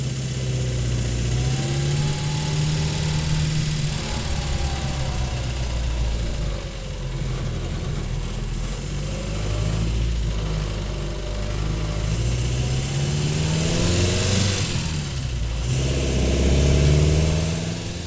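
Old classic car engine idling with a steady low rumble, then revving up in several swells, loud and close with no talk.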